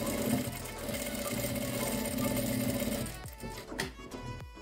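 Sewing machine stitching a table runner napkin, a steady fast mechanical whir running for about three seconds, then stopping and giving way to a few faint clicks and handling sounds.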